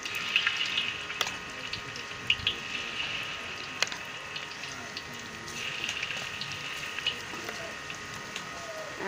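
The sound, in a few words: potato pakoras frying in hot oil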